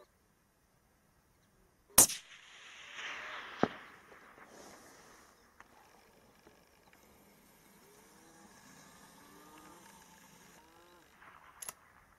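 A rifle shot fired at a fox near gorse bushes during daytime fox control, one sharp, loud crack followed by a rolling echo, then quieter rustling and a second faint snap near the end.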